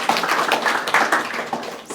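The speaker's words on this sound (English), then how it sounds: "round of applause." Clapping at a climate summit, with a few hands giving distinct, fairly close claps in an uneven rhythm over a short burst.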